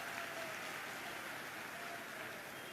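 Applause from a crowd at a public event for the Ratu Road elevated corridor in Ranchi, a steady, even wash of clapping held at a moderate distance for the full stretch, with no voices over it.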